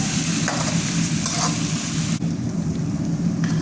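Ginger garlic paste fries in a pan, giving a loud, steady, close sizzle with scraping stirs and no talk.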